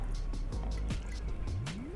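Homemade humic acid liquid fertilizer made from rice is poured into a container, giving a steady close liquid fill with drips and soft squishy splashes, no talking over it.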